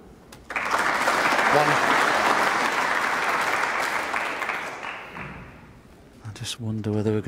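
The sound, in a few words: applause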